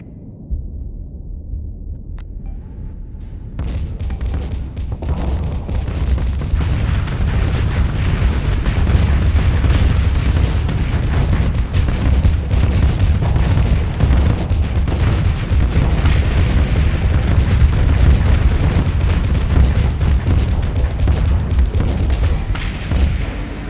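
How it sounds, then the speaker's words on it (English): A torpedo strikes a ship head-on in the space combat game StarSector, a loud sustained roar of booming explosions and rumbling blasts that swells after a brief quieter start and rolls on without a break. "That was a torpedo hit I took full on"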